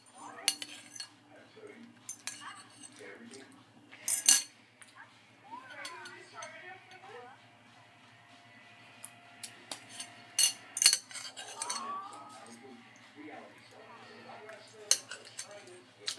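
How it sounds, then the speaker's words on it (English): Faint, scattered clinks of cutlery against dishes while someone eats in a quiet room, with soft talk between the sharp taps. "Sorry if you can hear me eating."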